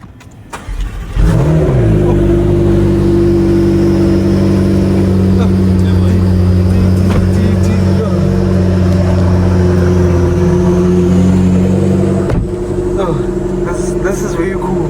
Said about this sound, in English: Can you start the car for us, please?